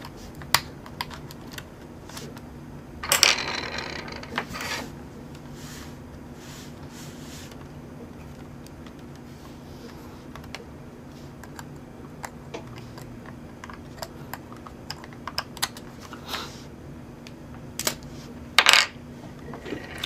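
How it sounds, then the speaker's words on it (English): A wireless card being pried out of a Sony Vaio laptop during a ribbon cable repair: small plastic clicks and light metallic tapping, a short cluster of clicks early and another near the end, close and quiet with no voices. "let's pop this thing out. This wireless card out."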